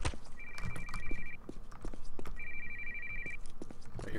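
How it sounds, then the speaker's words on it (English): Telephone in the video game Postal 2 rings twice in electronic bursts about two seconds apart, fairly quiet beneath footsteps and game ambience. "I hear phone."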